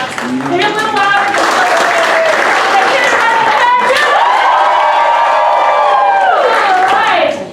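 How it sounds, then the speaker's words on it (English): A large audience at a live children's science show claps, cheers and shouts, building into loud sustained applause with whoops from many voices that tapers off at the end. "So let's practice that, like the golf claps, snaps, maybe a little louder."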